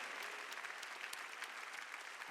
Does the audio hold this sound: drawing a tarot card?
no